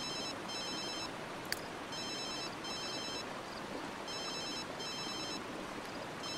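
A telephone rings in a Sims video game, several short bursts of electronic trilling in a steady pattern over a constant hiss of ambient background.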